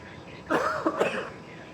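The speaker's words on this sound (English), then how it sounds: "I can cough as much as I want to." A person coughs twice in quick succession, close and fairly loud, the harsh bursts rising out of a quiet indoor background.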